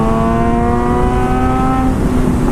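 A 600-class sport motorcycle engine winds up loudly and continuously as the throttle is twisted, with a steady rising whine held close throughout.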